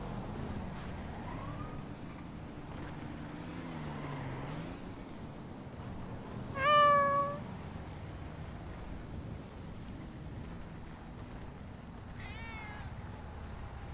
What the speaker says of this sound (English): This cat.